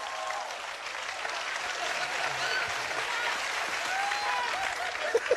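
Applause from a studio audience after a Bulgarian TV impersonation performance, even continuous clapping for over five seconds with faint crowd noise mixed in.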